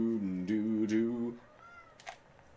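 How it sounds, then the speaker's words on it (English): A cat gives a drawn-out, loud meow that wavers in pitch, followed by softer rustling and a faint brief squeak. "He's meowed a lot less today."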